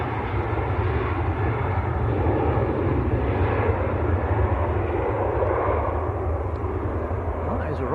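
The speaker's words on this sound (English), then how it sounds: "Well, that is a Ryanair to Tenerife South." A Ryanair jet, a Maltese-registered airliner bound for Tenerife South, rumbles past at Manchester Airport, a steady broad engine roar holding level throughout at moderate distance.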